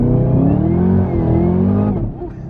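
A 2017 Chevrolet Camaro ZL1 engine revs loud and close, its 10-speed automatic downshifting with pitch stepping through gears before easing off near the end.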